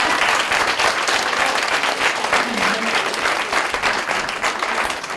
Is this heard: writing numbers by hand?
no